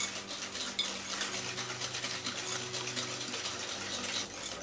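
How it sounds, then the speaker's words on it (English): Butter and sugar whisked together in a bowl for blueberry muffins: a fast, steady run of soft scraping strokes, close but quiet, with a low steady hum underneath. "now take hold of a whisk and whisk them nicely together"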